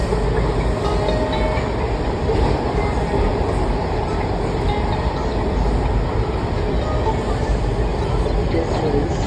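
A Washington metro train speeds through a tunnel toward Crystal City, a loud, steady rumbling roar with rail clatter that holds throughout, with a voice talking over it.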